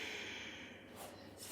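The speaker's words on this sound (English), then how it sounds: "We're going to inhale, exhale, inhale, and exhale" Slow, deep breaths drawn in and pushed out during a guided breathing exercise, soft and close, with a couple of louder airy exhales toward the end and no talking.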